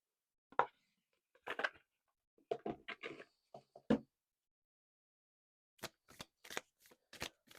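A deck of reading cards being shuffled in short, separate bursts of quick riffling and soft flapping, close and fairly faint, with brief silences between bursts and no talk.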